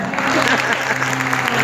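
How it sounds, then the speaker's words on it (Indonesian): Short burst of guest applause at a wedding ceremony after the newlyweds' forehead kiss, clapping mixed with a speaking voice and a sustained musical tone. "Tepuk tangan dong."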